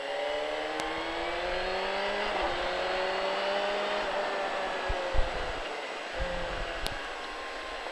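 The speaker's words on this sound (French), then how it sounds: "On fait tourner la moto, on redresse et on peut accélérer." A race motorcycle on a track winds up through its gears out of a corner, the engine note climbing steadily in pitch with rising harmonics and a brief dip at a shift, loud and close, with no talk.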